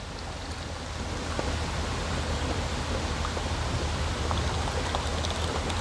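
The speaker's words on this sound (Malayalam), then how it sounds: "ഇനി നമുക്കതിലേക്ക് നമ്മുടെ ചൗവരി വേവിച്ച് വെച്ച് ഒഴിക്കാവേ" Cooked sago poured into boiling, thickened milk gives a steady, dense rushing hiss like pouring liquid, close and continuous throughout with no talking.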